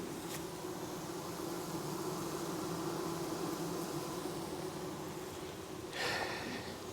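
Honeybees in a hive, with queen cells inside, hum as a dense continuous buzz heard up close, steady throughout with a short rustle near the end.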